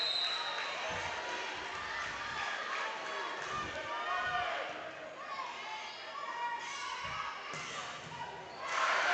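Crowd at the All A Classic volleyball championship erupts in loud, sustained cheering and shouting after a long rally with a dig, with a commentator talking over the noise and scattered thumps of play underneath.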